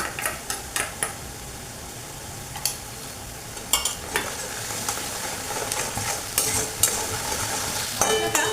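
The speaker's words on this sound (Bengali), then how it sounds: "কষিয়েছি মানে টমেটো আর আদা কষিয়েছি।" Tomato, ginger paste and Kashmiri chili sauté in a pan for a curry with white sesame and potatoes, a soft steady sizzle broken by repeated sharp scrapes and clinks of a spoon stirring against the metal.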